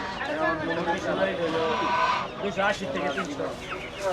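Several chickens cluck near at hand at a poultry stall in Uttara's BDR market, their calls running throughout over steady crowd noise while people talk close by.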